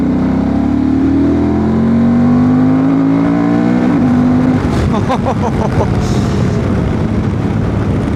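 Honda Transalp 750 motorcycle with a remapped ECU pulling hard in third gear from about 3000 rpm, a loud, steady engine note rising in pitch over several seconds before a rougher, gruffer roar takes over near the end.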